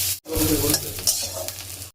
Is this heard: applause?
no